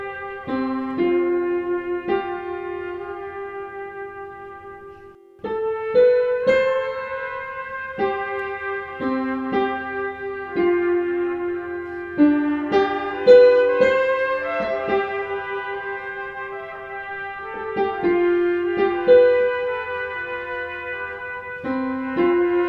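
Film music plays as a gentle, clear melodic instrumental line with sustained notes and soft phrasing, heard alone without talk.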